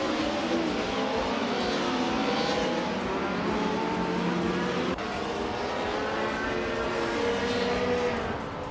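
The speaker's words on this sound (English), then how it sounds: "Maya's driving the 1994 Mercedes C180 DTM, starting from 8th place." A 1994 Mercedes C180 DTM race car engine in a racing video game drones and climbs steadily through the gears, loud and continuous throughout with no break, and no voice over it.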